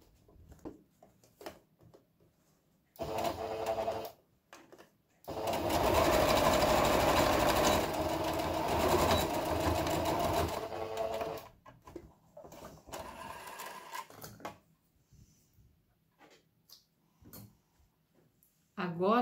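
A sewing machine stitches a seam from start to finish with a backstitch, its rapid mechanical whirring in two bursts, close and loud, with someone talking before, between and after.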